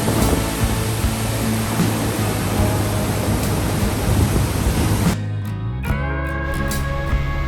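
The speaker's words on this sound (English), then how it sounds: "Dam waters were being released due to rainy season." Floodwater released from a dam on the Son river in the rainy season roars as a loud, continuous broadband rush, then the roar is cut off abruptly near the end.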